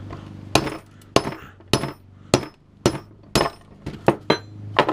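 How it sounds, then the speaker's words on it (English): Hammer blows drive a part out of an electric can opener held against a vise used as a spacer, eight sharp metallic strikes at a steady rhythm, close and loud over a low steady hum. "And I'm going to hammer down on this."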